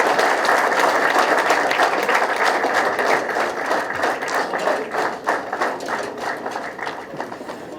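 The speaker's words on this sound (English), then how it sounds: "Please welcome him with a big round of applause." A large crowd at a valedictory ceremony claps continuously, dense, steady applause that gradually thins and softens toward the end.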